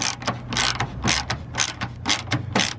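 A ratchet tightens bolts on a Class C RV headlight assembly, with rapid rhythmic clicking bursts, close and fairly loud, in repeated strokes.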